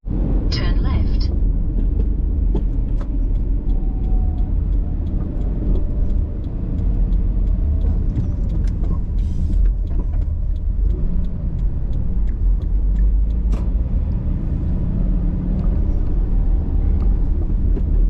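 Car driving through the outback town of Bourke in far west New South Wales, with a steady loud road and engine rumble throughout and a brief voice near the start.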